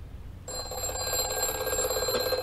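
A telephone rings steadily and loudly after a brief quiet start, its bright electronic tone sustained without pause and no voices over it.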